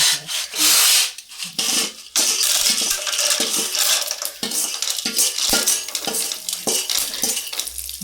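Popcorn kernels are stirred in oil inside a metal pot, giving close scraping and rattling that runs steadily with a few louder clanks near the start.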